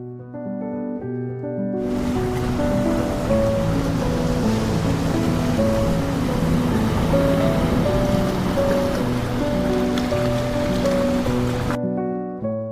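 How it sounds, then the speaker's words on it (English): The roar of the Iguazu waterfalls in Brazil, a dense, steady broadband rush of crashing water that swells in abruptly and holds constant, mixed with sustained musical tones before cutting off near the end. "The roar of the falls can be heard from miles away"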